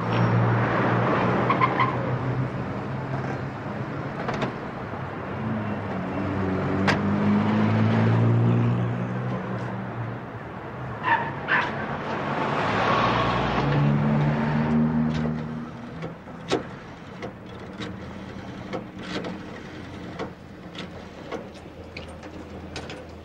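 A car pulls away, its engine note rising in two swelling sweeps before fading, with scattered mechanical clicks and knocks and no voices.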